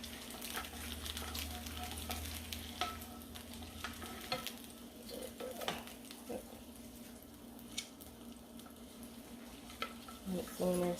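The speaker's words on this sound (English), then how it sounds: "Now I'm going to add my Spam. And I'm going to actually add the egg." Spam and egg cooking in a pot of spicy ramen soup with sriracha, giving a steady close sizzle and bubbling with scattered utensil scrapes and stirring knocks throughout.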